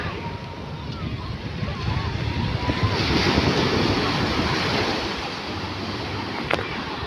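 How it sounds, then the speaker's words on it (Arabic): Sea waves surging onto the beach at Marsa Matrouh, a broad continuous wash with gusty wind buffeting the microphone, swelling in the middle and easing toward the end. "الموجة عالية شايفينها جميلة، استمتعوا معانا بمنظر البحر الخطير."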